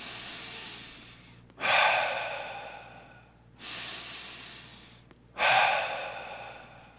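Slow, deep breathing during meditation, three long inhales rising sharply and fading out, evenly spaced about two seconds apart, close and clear with quiet pauses between breaths.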